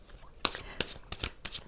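Tarot cards being shuffled and flipped over during a French horoscope card reading for Libra, with several short papery snaps and slides spaced across under a faint background.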